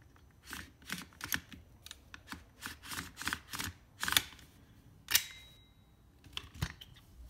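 An adjustable gun stock being slid and tightened gives a quick run of crisp, close clicks and ratchet snaps, irregular in rhythm, with a pause before a last couple of clicks.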